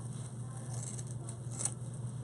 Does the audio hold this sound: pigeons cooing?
no